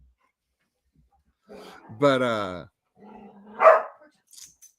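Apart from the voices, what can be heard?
corgi dogs barking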